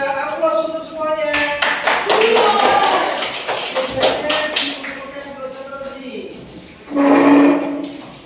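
Students in a classroom clap together in a burst of brisk, moderately close applause lasting a couple of seconds, with a teacher's voice speaking before and after.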